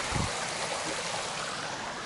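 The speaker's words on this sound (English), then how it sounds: "Beautiful little creek." A small creek beside a trail hostel in the Appalachians flows with a steady, close rush of water, broadband and continuous, with a brief low thump at the start.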